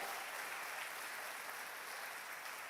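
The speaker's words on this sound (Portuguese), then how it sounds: "Dá uma salva de palmas para Jesus, irmão, nós somos gratos" A church congregation claps together during a sermon, a short, dense burst of applause with no voices over it.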